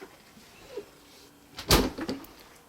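The door of an LG Styler clothing care machine shuts with a single close thud and a short rattle, preceded by faint handling noise in an otherwise quiet room.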